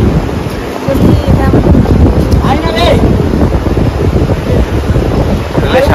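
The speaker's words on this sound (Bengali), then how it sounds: "সামনে সমুদ্রটা, রাত্রিবেলা কিরকম লাগে সেটাই দেখাচ্ছি।" Ocean waves roar at the seashore of Mandarmoni at night, a loud, steady wash of surf with strong wind buffeting the microphone and no voices.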